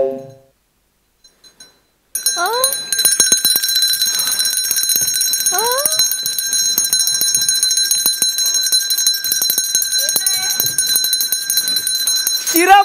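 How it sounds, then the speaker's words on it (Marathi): A doorbell rings several times in a Marathi comedy sketch on stage, its bright chimes repeating over a steady noisy background with brief voices in between. "दरवाजावरची बेल कोणी वाजवली."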